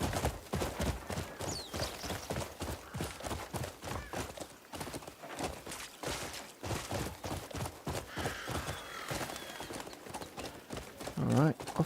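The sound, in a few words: horse riding hoofbeats in video game Crimson Desert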